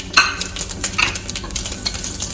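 Whole spices, peppercorns, cloves, cardamom, mace, shahi jeera, fennel and bay leaves, sizzling in hot oil in a pan for veggie biryani, a close crackling fry with light stirring scrapes and utensil clinks, no talking.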